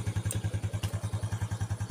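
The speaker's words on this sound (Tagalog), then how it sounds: "paandarin natin yung motor" A motorcycle engine idles nearby in a repair setting, giving a steady rapid low thumping pulse with faint mechanical clatter and no talking.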